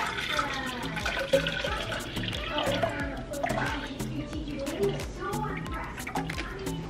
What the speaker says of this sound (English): And now I'm gonna fill up my cup with water